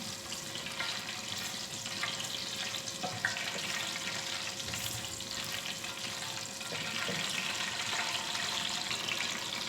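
Cumin and ground spices fry in hot oil in a pan for dhaba-style daal mash, giving a steady, close hiss that carries on without a break. Faint clicks sit inside the hiss, and no one speaks.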